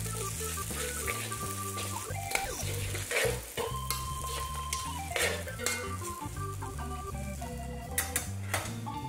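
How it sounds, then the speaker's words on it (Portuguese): Spaghetti with garlic and oil stirred in a hot pan, a continuous sizzle under scraping utensil strokes, with music playing steadily in the background. "Mexer mais um pouquinho."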